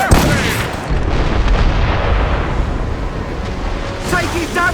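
Ship cannons booming in a naval battle in Assassin's Creed Rogue, loud heavy blasts at the start followed by a rumbling roar, with crew voices shouting over the action.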